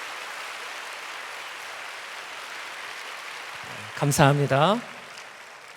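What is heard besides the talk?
applause welcoming guests at a church worship service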